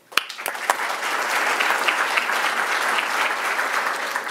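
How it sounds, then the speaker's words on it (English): An audience at an ambassadors forum luncheon breaks into sustained applause, dense clapping from many hands filling the room and holding steady after a few early isolated claps. "I think they deserve a round of applause"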